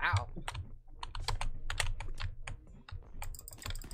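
A cat walks across a computer keyboard, producing a rapid, irregular clatter of key presses that runs continuously and fairly close, with some voice in the background.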